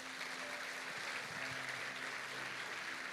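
A church congregation applauding at a Pentecost service, heard as a steady, dense wash of clapping from many hands at a distance with a faint voice beneath.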